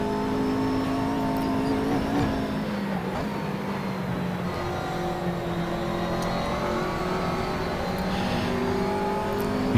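McLaren 650S GT3 race car driven in the Assetto Corsa racing game at Zandvoort, its engine droning steadily and loudly throughout with shifting tonal pitch as power is applied and eased, no voices.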